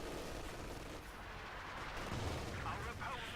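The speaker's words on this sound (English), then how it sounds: "Pack howitzer hitting the church." Pack howitzer shells pounding a church in the World War II strategy game Company of Heroes 2, a dense, continuous wash of booming artillery and rumbling impacts with scattered gunfire, loud and steady throughout.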